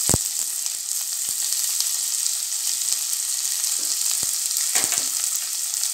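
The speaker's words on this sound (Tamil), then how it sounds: "வெங்காயம் நல்லா பச்சை வாசம் போகிற மாதிரி வதக்கணும்." Onions sauté in a pan for a pepper chicken gravy, giving a dense, even sizzle close up with a few sharp clicks and taps of stirring, and no voices.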